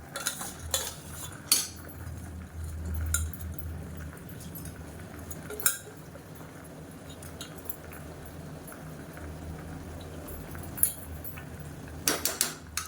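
Soaked rice going into a boiling chicken biryani pot, followed by a utensil clinking and scraping against the pot in scattered taps over a steady low bubbling simmer, close by and moderately loud.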